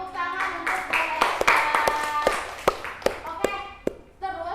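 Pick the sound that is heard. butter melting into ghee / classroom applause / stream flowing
classroom applause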